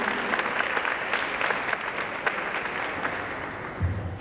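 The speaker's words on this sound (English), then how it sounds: "Would you applaud her again?" Audience applause fills a scholarship gala and fashion show hall, steady dense clapping at moderate distance that holds for about four seconds, with a low murmur of voices near the end.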